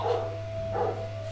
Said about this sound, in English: Try to ignore the dogs in the background.